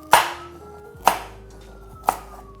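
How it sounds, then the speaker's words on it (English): A big kitchen knife chops pumpkin into chunky pieces on a board, three sharp, evenly spaced thuds about a second apart, close and clear, with no talking. "And with a big knife. And we cut them in chunky pieces."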